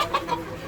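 Desi Fayoumi rooster on a home poultry farm giving a few short, close clucks in quick succession, fairly loud with little else around.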